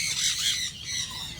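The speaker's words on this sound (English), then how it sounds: "These are the blue-back parrot from the Philippines." A blue-backed parrot from the Philippines lets out a harsh, loud squawk close by, followed by a second raspy call after a brief dip.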